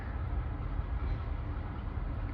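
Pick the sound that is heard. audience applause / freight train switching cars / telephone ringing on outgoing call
freight train switching cars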